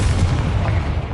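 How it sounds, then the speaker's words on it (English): A Confringo fire spell in Hogwarts Legacy bursts in a single loud, booming explosion that fills the brief moment with a heavy rumble. "Confringo."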